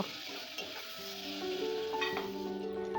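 Potatoes with spices, chili powder and garlic paste sautéed in a pan: soft sizzling and stirring with a few utensil scrapes, fairly quiet, under faint sustained musical tones.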